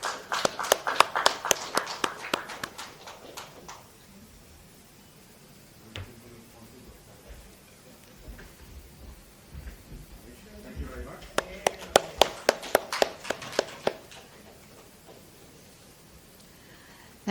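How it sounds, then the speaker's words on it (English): Audience clapping at an IVCA investment and regulatory session, heard as two short, scattered bursts of claps from a modest crowd, one at the start and another near the end, with a quieter stretch of room noise between them. "Big round of applause, please."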